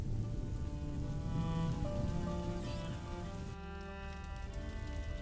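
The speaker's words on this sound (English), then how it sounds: "would you mind if we get out of the rain, please?" Steady rain pours down outdoors in a video game scene near a tower, a continuous hiss that holds throughout alongside sustained tonal music.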